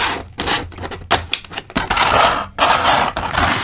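Plastic and cardboard packaging scraping and crackling as an Eternal Sailor Moon S.H. Figuarts figure is unboxed, with close, irregular rustles and scrapes in uneven bursts, loud and continuous.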